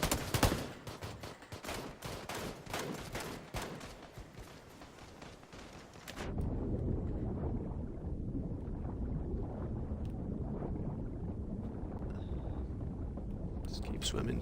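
Muffled, steady underwater rumble from a swimming character diving down in the video game PUBG, following several seconds of dense distant gunfire bursts.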